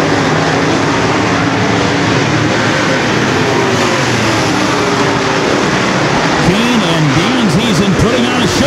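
Modified race cars battle side by side at the Harvest Cup, a loud continuous roar of engines, with rising and falling pitch sweeps as cars pass, under a race announcer's commentary.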